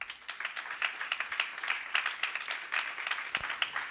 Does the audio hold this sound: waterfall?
no